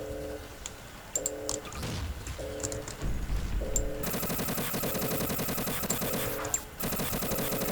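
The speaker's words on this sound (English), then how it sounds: "It may just be a reskinned pulse rifle, but it is pretty freaking powerful." A reskinned pulse rifle in Garry's Mod fires continuously for several seconds, a dense buzzing stream of rapid energy shots that follows a few electronic beeps and short bursts of sound.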